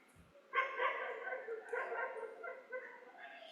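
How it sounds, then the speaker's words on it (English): Dogs bark and yip in Kathmandu, several sharp calls in quick succession at moderate distance, with a brief whimpering quality between barks. "And you just always hear dogs barking, you get used to it pretty quickly."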